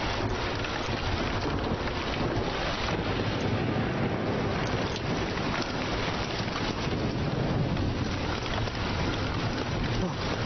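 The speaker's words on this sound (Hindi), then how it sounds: "बहुत बारिश हो रही है" Heavy rain during a war-film scene, a dense, steady roar of rain and wind that stays loud and unbroken throughout, with no clear talking.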